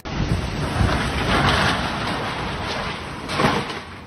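Heavy storm rain pours down over Porto Alegre, Brazil, during flooding, a dense, loud, continuous roar with gusty wind buffeting close to the microphone and no speech.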